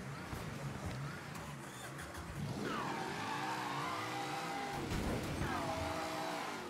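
A car engine in the Mafia 3 video game revs hard in two rising surges with whining pitch sweeps, loud and close over a low engine rumble.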